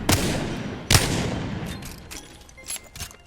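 Wingman revolver fire in Apex Legends: two loud, sharp gunshots close together at the start, each with a short echoing tail, followed by fainter distant pops and clicks as the sound settles.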